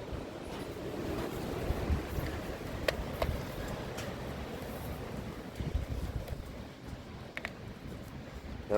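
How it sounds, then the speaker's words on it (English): Steady gusting wind on a windy day in Kentucky, blowing continuously and fairly loud across the whole stretch with rough, buffeting rumble at the microphone and no voices. "Wind's scary to me, guys."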